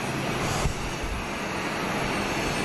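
A plane's aircraft engine at Budapest roars continuously as a broad, steady rumble and whine, close and constant throughout, with no talk.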